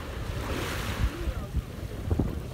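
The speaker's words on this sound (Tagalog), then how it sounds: "Sobrang lakas ng alon." Strong ocean waves at a beach, a steady rushing surf roar with low thumps of breaking water, heavy wind buffeting the microphone, and faint voices now and then.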